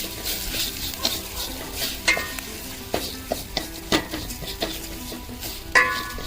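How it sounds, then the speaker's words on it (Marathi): Freshly grated coconut sautéed in a pan with ghee for a sweet rice kheer, with a steady soft sizzle under repeated scraping and knocking strokes of a spoon against the metal pan. "खोबऱ्याचा चव असा छान परतून घ्यायचा।"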